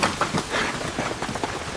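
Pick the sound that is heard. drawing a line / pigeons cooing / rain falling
rain falling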